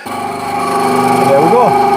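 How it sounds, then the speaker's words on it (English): A power tool runs steadily while cutting a 45-degree angle on a wooden French cleat for a tool wall, a loud sustained motor drone with a rising pitch sweep near the end. "We can cut our 45-degree angle on these."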